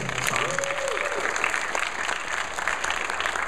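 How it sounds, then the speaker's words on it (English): Clapping from a guitar recital audience for the performer, a dense, even wash of applause with a faint whistle or voice rising briefly above it, continuing throughout. "Round of applause for Cole."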